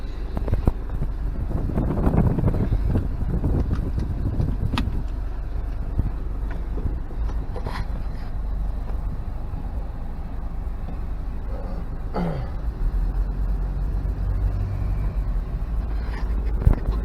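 A 1991 Toyota Land Cruiser Prado GC29 on the move, its engine and road noise a continuous low drone inside the cabin, with gusts of wind buffeting the microphone and occasional knocks, no talking.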